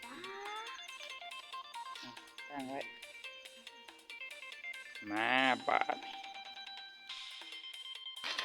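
A phone ringtone plays a bright, repeating electronic melody at night in Laos, with voices speaking over it partway through.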